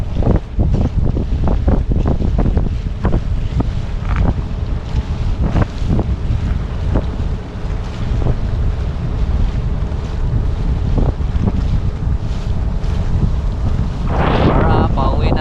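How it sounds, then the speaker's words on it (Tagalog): Strong wind buffets the microphone aboard a fishing boat at sea, with waves slapping and rushing throughout, a continuous loud roar that swells near the end. "Lumalakas na, palakas na ang hangin."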